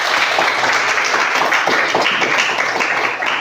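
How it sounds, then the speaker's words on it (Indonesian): Students in a classroom clap their hands together, a brisk close burst of overlapping claps filling the room steadily. "Tepuk tangan untuk ingatan."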